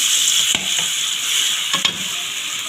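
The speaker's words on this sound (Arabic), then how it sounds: "الزيت سخن بقى دلوقتي انا هنزل بايه؟ بالتومه على الكزبره الناشفه" Garlic and dried coriander hit hot oil in a pan with a steady bright sizzle, while a spoon stirs through it with a couple of short scraping knocks, close and clear.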